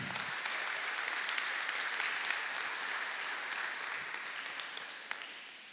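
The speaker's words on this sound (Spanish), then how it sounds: "y darle un aplauso al Señor." Congregation in a church applauding, a sustained dense clapping from many hands that fades slightly toward the end.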